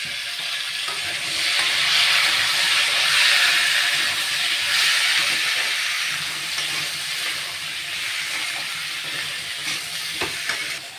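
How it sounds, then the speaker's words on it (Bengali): Potatoes frying in a pan for a home-style Bengali curry, a continuous close sizzle that swells and eases, with a few faint stirring clicks near the end. "আমি আলুটাও একটু ভেজে নেব।"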